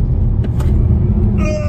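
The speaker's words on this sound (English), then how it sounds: "440 brake horsepower, four-wheel drive, this thing shifts." A fast 440-horsepower four-wheel-drive MG car accelerates hard with a loud, deep engine roar and brief bursts at gear changes, ending with a rising whine.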